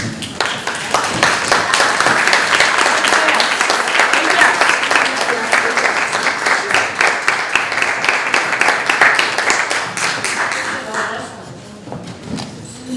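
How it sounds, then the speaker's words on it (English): A luncheon crowd of a women's business group gives guests and new members a round of applause, a loud, dense clapping that continues for about ten seconds, then thins into scattered claps with faint voices. "I invite all of our guests and new members to stand so we can give you a warm BFF round of applause"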